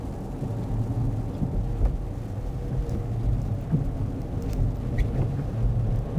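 Steady rain on a car in West Covina, heard from inside the vehicle, with a continuous wash of road and engine rumble and scattered drops tapping the body and glass throughout.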